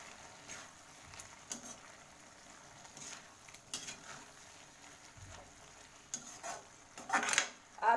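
Mixed vegetable curry, with green coriander just added, is stirred in a pan with soft scraping and clinks of a spoon against metal, growing louder in a burst of strokes at the end over a faint sizzle.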